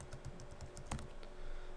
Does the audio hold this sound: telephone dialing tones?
no